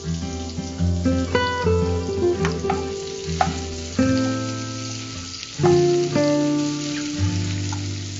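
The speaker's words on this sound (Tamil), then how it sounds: "அடுத்தது ஆனியன் போட்டு வதக்க போறோம்" Onions fry in hot oil in a TV cooking-show kitchen, a steady sizzle and crackle running throughout under louder tonal background music.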